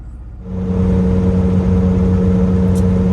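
A semi truck's diesel engine turns over and settles into a steady, loud idle as it warms up, with a deep rumble and a constant hum droning on close by.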